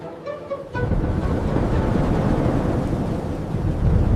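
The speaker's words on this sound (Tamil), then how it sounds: "அந்த இரவு பெரிய புயல் காட்டை தாக்கியது." Cartoon sound effect of a great storm striking a forest at night: a low, continuous roaring rumble of thunder and wind swells up after a brief quieter start and holds steady and loud.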